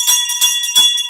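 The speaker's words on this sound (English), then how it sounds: "Ring the bell for Chanel." A bell is struck about four times in quick succession, each bright metallic ring sustaining with clear high overtones, loud and close, with no voices.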